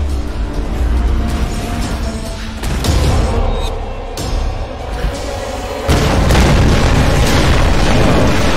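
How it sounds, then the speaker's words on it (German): Loud booming explosions in the video game Tomb Raider Definitive Edition go off one after another, followed by heavy crashing and rumbling as structures collapse, ending in a sustained roar. "Jetzt bricht hier wieder alles zusammen und alles explodiert."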